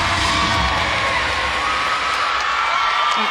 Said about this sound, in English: Brings the crowd to life at the Hurt Center.